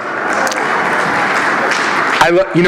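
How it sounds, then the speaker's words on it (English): Applause from a conference audience, a dense, steady wash of clapping that fills the room, with a voice breaking in near the end. "because you get applause for that"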